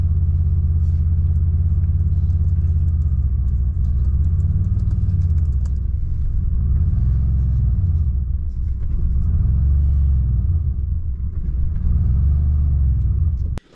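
A Megasquirt-tuned Typhoon engine idles roughly, its loud, steady low rumble rising and falling in slow, uneven surges throughout with no talking.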